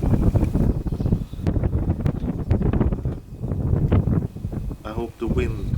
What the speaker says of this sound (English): I hope the wind won't mess up the sound. It's a bit windy.